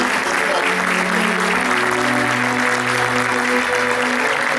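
Audience applauding fifteen eighth-grade graduates at a school graduation ceremony, steady dense clapping throughout with a sustained musical tone underneath.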